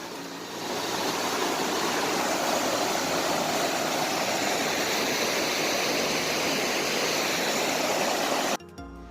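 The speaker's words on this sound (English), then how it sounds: "I went probably about 100 yards past the river because it's really noisy over there" A noisy river on a Pacific Crest Trail hike rushes in a dense, steady roar, close and loud, swelling in after the first moment and holding without pause until an abrupt cut near the end.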